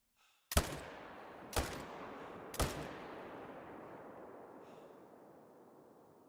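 Three sharp, loud hunting rifle shots spaced about a second apart while stalking whitetail deer in theHunter, each crack trailing into a long rolling echo that fades slowly, with no talking.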